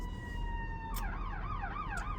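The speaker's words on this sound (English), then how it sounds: "ambulance number 3" An ambulance siren wails in the distance, rising and falling in a quick repeating sweep after a steady tone, faint but clear over low background rumble.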